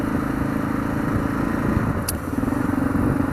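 A motorcycle ridden slowly along a road in cold weather, a steady low engine drone holding close and even throughout, with a brief high scrape-like tick near the end.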